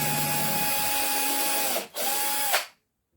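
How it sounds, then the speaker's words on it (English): Cordless drill driving a titanium drill bit into a piece of wood, a whining motor hum that briefly cuts out, revs once more, then stops, close up and alone. "these are supposed to be titanium drill bits, and they're getting cracked on a bit of wood"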